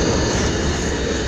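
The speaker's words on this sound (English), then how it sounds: "Sorry about the tram." A tram passes close by, a loud, continuous low rumble that fills the whole moment with no speech.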